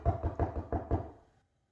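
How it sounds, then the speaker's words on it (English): Four firm knocks on a door in a steady rhythm, close and loud, followed by a short fading resonance and then silence. "We soon hear Rooster pounding on his door."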